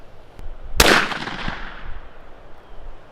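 A single sharp .22 Magnum rifle shot fired at a plexiglass target, loud and close, with a short decaying ring-out after the crack and quiet background before and after.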